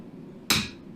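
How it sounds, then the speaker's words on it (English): A single sharp, loud hammer strike rings out as a punch is set into a bandsaw cut in square steel bar during forging, followed by a brief metallic decay with no talk. "And then use the punch and the hammer to roll it over."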